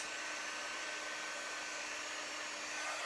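A dryer blows a steady, close, loud stream of air over a freshly peeled silk screen print transfer, holding one unbroken tone with no voices.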